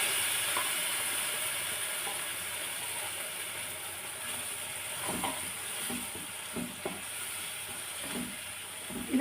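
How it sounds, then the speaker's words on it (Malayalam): Ground coconut paste goes into a hot pan for Kerala moru curry, giving a steady, faint sizzle throughout with a few soft scraping and stirring clicks near the end. "ഈ അരച്ച് വെച്ച തേങ്ങ ഞാൻ ഇതിലേക്ക് ഇട്ട് കൊടുക്കുകയാണ്."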